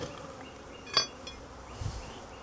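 Honey bees hum around an opened hive during requeening, a soft steady drone with a couple of brief clicks from handling the frames.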